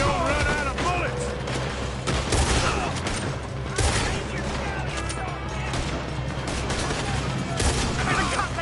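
Dense, continuous gunfire from Red Dead Redemption 2 gameplay, with overlapping shots, loud booms and game clutter filling the whole stretch, while voices call out underneath.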